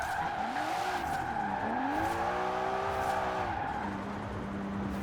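A Toyota fitted with a Nissan engine revs and climbs through the gears in Forza Horizon 4, a loud, close, steady whine rising and falling, with a tire squeal as it slides sideways.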